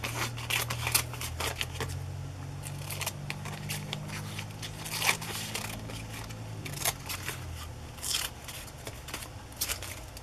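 Scissors snip and trim paper for a vintage photo slide mount, giving a run of close, crisp cutting clicks with brief pauses between strokes, no talking.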